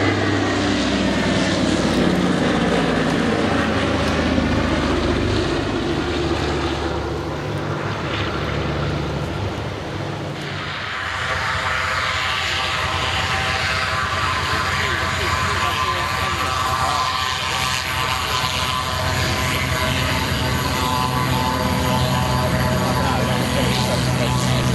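A Catalina propeller flying boat displays at the 2011 Shoreham Airshow, its loud droning piston engines sustained and steady throughout, the tone shifting as it passes, while a commentator speaks over the public address.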